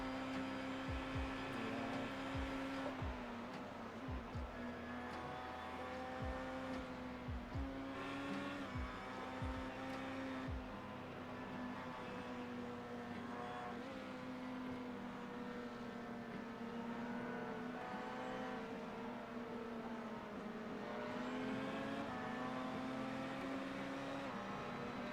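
GT race car engine at the 24 Hours of Le Mans, a sustained droning motor note heard from a broadcast distance, steady and fairly faint with slight pitch shifts and a few low thumps early on, no talk.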